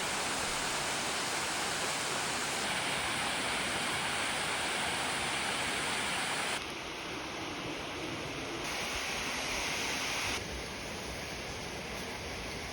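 A loud, unbroken roar of a forest waterfall, the lowest of three cascading falls into a deep pool, dense and steady throughout, with slight shifts in tone partway through and no voices.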